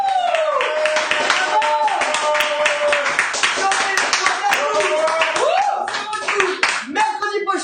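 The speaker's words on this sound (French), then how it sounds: "on applaudit bien fort Semi-Boxy et David Desclos" A studio audience claps loudly and steadily for the two guests, Stomy Bugsy and David Desclos, on a French television show; a host's voice talks over the dense applause throughout.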